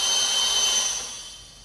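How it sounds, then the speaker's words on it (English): Small drill whining into the case of an EcoFlow Delta 1300 portable power station, a close high-pitched shriek that holds steady and then winds down. "Let's drill this guy, and hopefully that's the right size."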